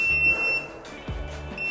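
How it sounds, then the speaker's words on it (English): Reef Factory Thermo Control aquarium heater controller sounding its built-in audible alarm, a loud, steady high-pitched electronic tone that pauses briefly and resumes, heard alone near the unit. "There's also an audible alarm on the unit itself that is unmissably loud."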